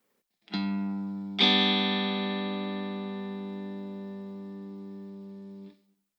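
An electric guitar chord rings out, then a second chord, root note on the thumb with chord tones on the 4th, 3rd and 2nd strings, is struck and sustains for several seconds before being cut off, clean and close.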